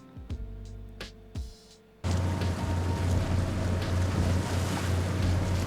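A boat moving on ocean waves: after a brief quiet passage of soft thuds, a loud steady wash of water and wind noise fills the rest, rumbling low and constant.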